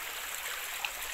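A rural stream where water is drawn for washing dishes and clothes flows with a steady, close rushing babble, continuous and fairly loud, with no voices over it.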